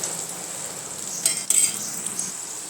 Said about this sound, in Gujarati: આપણે આ સરસ રીતે મિક્સ કરી લીધા છે અને થોડીવાર માટે આપણે થવા દઈશું